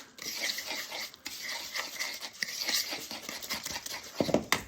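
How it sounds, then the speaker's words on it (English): Two eggs and a cup of oatmeal being stirred in a bowl for gluten-free oat muffins, a steady close scraping and swishing that runs through the whole stretch, with no one talking. "I add 1 cup of oatmeal. Stir, stir, stir."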